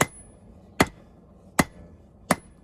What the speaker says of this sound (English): Using my big hammer because it helps me move the steel a little bit better.